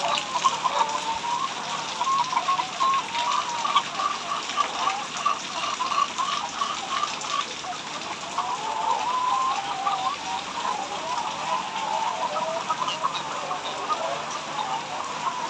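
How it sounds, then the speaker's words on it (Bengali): Water gushing steadily from drinker pipe lines in a chicken shed, a continuous rushing flow with faint hen clucks mixed in throughout. "প্রত্যেক সাইডে পানিটা ছেড়ে দিতেছি"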